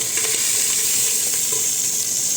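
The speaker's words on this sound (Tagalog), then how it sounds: "Dahil kailangan pa natin i-pan fry yung isda." Fish pan-frying for a Chinese soup, a dense, steady sizzle heard up close with faint stirring scrapes underneath, no voices.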